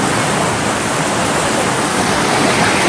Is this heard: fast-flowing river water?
yes